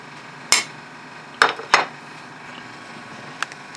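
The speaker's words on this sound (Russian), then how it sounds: "Все это засыпаем в кастрюльку." Peppercorns, garlic cloves and quartered onion drop into a saucepan in a few sharp clattering hits, three close together early and one small tick near the end, against quiet kitchen background.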